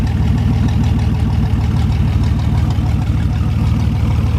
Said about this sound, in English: Absolutely love the way these V6s sound.